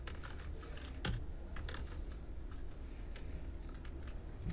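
Python code being typed on a computer keyboard while programming a Raspberry Pi, a steady run of close, crisp key clicks with a few louder strikes, no voices present.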